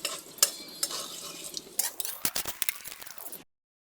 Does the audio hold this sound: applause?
no